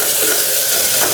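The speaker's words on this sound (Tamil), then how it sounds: "தக்காளி வந்து 2 நிமிஷம் வதக்கிடலாங்க" Tomatoes sizzle as they're sautéed and stirred in a pan while cooking a millet rice and horse gram rasam meal, a steady close frying hiss with soft stirring scrapes and no talking.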